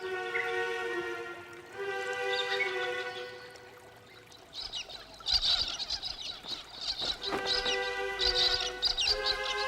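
Several birds call and chirp in overlapping bursts, some harsh and squawky, with busy high-pitched chatter growing louder toward the end.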